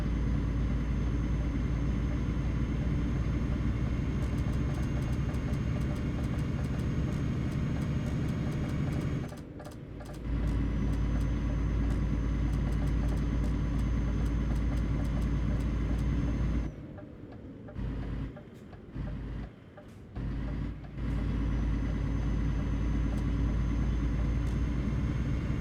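A turbocharged truck with anti-lag drives along with a constant loud engine roar and heavy low rumble. The roar drops out briefly a few times, as if the driver is lifting off or shifting. There is no talking.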